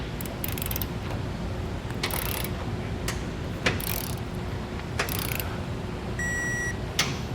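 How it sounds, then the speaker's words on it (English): Torque wrench tightening bolts of a Curt trailer hitch receiver under a 2021 Chevrolet, intermittent ratchet bursts and a few sharp clicks over a steady background hum, with a faint electronic beep near the end. "So we'll go through and get these all torqued properly."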